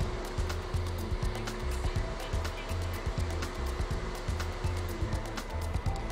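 A car's electric radiator cooling fan runs steadily during an actuator test, giving a constant airy whoosh, with regular clicking or ticking pulses repeating underneath at an even rhythm throughout.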